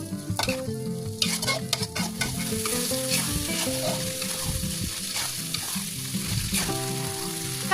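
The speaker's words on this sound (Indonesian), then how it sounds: "Tumis bumbu sampai benar-benar matang dan tanak." Spice paste with bay leaves, galangal, bruised lemongrass and lime leaves sautés in a pan, giving a steady close sizzle with repeated scraping and stirring strokes throughout.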